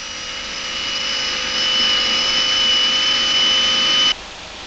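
A 1966 ČKD diesel locomotive of 1,800 horsepower runs in a test hall, its engine climbing toward a maximum of 3,000 RPM; a steady whining drone with tonal lines that rise slightly, then cut off abruptly near the end.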